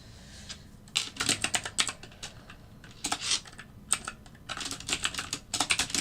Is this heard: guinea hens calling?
no